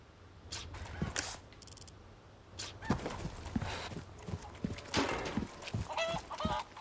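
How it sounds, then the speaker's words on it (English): Chickens clucking and squawking in a village in the Resident Evil 4 remake, short scattered calls mixed with footsteps and other game sounds. "Get out of here, chickens."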